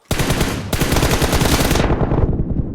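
Automatic gunfire rattles in PUBG Mobile, a loud, dense burst of rapid shots that runs for about two seconds with a brief break early on, then tails off into a short fading echo.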